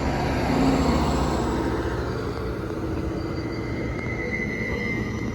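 A train rolls through Grangetown station at rush hour, a loud, steady rumble of wheels and carriages close by for the whole stretch, with a faint high squeal rising near the end.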